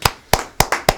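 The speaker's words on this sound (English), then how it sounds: "That's a hand clap." Four sharp hand claps spaced about a quarter second apart, crisp and close, each with a brief decay, with no voices.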